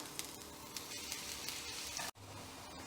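Chopped garlic, four cloves, sizzles steadily in hot coconut oil, a dense crackling fry heard up close that drops out abruptly near the end before resuming.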